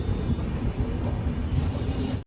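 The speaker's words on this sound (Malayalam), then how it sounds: "ഇതാ കോയമ്പത്തൂർ ജംഗ്ഷൻ റെയിൽവേ സ്റ്റേഷനിലേക്ക് ട്രെയിൻ എത്തിക്കൊണ്ടിരിക്കുകയാണ്" An Uday double decker train arriving at Coimbatore Junction, a steady loud rumble of rolling wheels and carriage noise throughout, cutting off sharply at the end.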